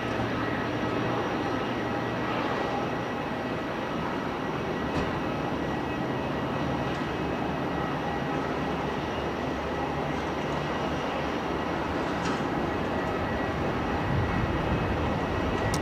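An aircraft taking off from runway 34 at Melbourne Airport, heard as a sustained, even, broadband engine roar that holds steady the whole time without voices.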